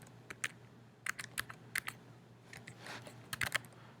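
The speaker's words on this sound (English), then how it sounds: "Type in your IP info for whatever scope you want to configure." Computer keyboard typing in scattered clusters of light, close clicks and taps over a faint steady electrical hum, as IP details are entered on a server.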